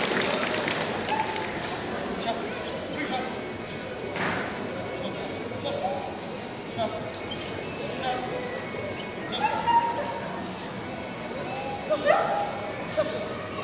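Dogs bark and yip now and then at an outdoor dog training show, with voices talking around them and occasional thumps.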